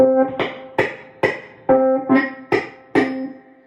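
A vintage Fender Rhodes Mark I stage piano with the pickup set so close that it touches the tine plays seven evenly spaced notes, each a sharp attack with a buzzy, clanky edge, loud and close with nothing else heard.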